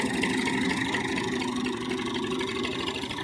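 A tractor engine pulling a wheat seed drill across a field drones steadily at mid pitch throughout, with no change in rhythm and no one speaking.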